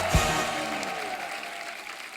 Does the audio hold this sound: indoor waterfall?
no